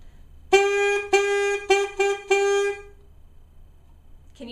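Five separate tongued saxophone notes at one steady pitch, each with a crisp attack and a short gap between them, played close and clear with no voices, followed by a brief silence.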